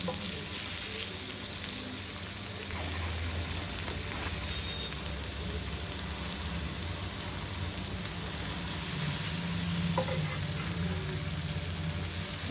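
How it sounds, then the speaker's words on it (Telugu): Koramenu fish fries in hot oil in a pan, giving a soft, steady sizzle and crackle with faint stirring scrapes, fairly quiet and continuous, and no one speaks. "ఇలా వేగిన తర్వాత నెమ్మదిగా అన్నీ మార్చుకోవాలండి"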